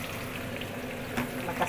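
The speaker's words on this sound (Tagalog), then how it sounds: "Fry tayo ng onions." Onions frying in a pan, a steady close sizzle and crackle with a few sharper spikes of spatter and stirring toward the end.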